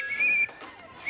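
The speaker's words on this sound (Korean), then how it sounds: "호루라기 불면 바로 시작입니다" A single short, shrill whistle blast, sharp and close, followed by quiet.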